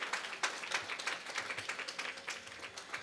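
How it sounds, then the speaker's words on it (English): Audience claps for the artists at an Indian classical music event, a faint, steady patter of applause throughout. "we need to give one more huge round of applause for all of the artists"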